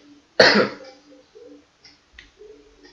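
A single sharp cough bursts out near and loud, then fades into a quiet room with a few soft murmurs and small clicks afterward.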